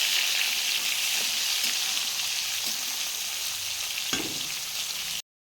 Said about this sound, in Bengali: প্রথমে আমি পটলটা ভেজে নেব। পটলটা দিয়ে তেলের মধ্যে একটু